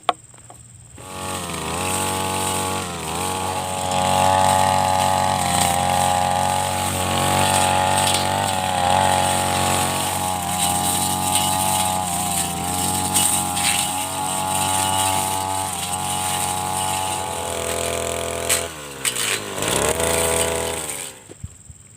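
A two-stroke petrol brush cutter cuts grass in one continuous run of about twenty seconds. The buzzing engine is loud and close, and its pitch rises and falls as the throttle changes and the blade bites into the grass, with no talking.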